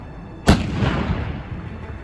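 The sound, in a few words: British Army next-generation howitzer firing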